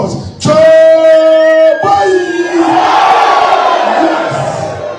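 Political party delegates in the Chiana-Paga constituency shout a loud collective response. A sharp burst of sustained voiced yelling opens it, then it swells into a broad, roaring crowd cheer that carries to the end.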